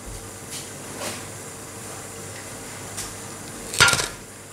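Batbout flatbreads turned over in a pan on the stove, with soft scattered taps and scrapes over a steady background hiss, then a sharper metallic clatter of utensil against pan near the end.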